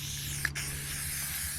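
Silicone spray hissing onto a KTM 500 motorcycle, a steady close aerosol hiss lasting the whole moment with one brief break partway through.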